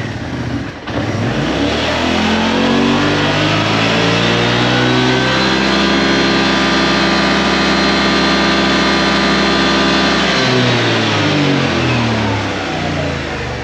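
A Kymco AK550 Premium scooter pulls away from a standstill, its engine note climbing steadily through a long, loud, close run before easing off near the end.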